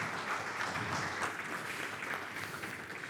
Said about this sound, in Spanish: con los fuertes aplausos recibimos a Gustavo Álvarez aquí en el escenario